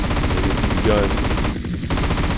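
Aircraft machine guns fire in GTA San Andreas, a dense, continuous rattle of rapid shots over a loud engine roar for the whole moment, with no speech.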